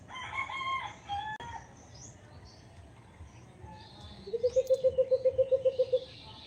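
A rooster crows at a moderate distance, followed by a rapid run of about a dozen evenly spaced, repeated calls over quiet outdoor background.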